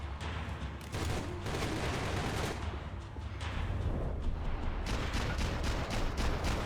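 Dense, rapid gunfire from a Max Payne 3 firefight, with overlapping bursts and booming shots in a continuous loud barrage, no voices over it.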